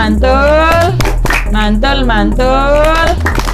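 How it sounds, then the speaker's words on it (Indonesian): A group in a child-protection training session performs a rhythmic clap-and-chant cheer for a team, voices chanting in unison with loud, close claps punctuating the phrases. "Oke, kita beri tepuk dulu ke kelompok 1. Tepuk mantul"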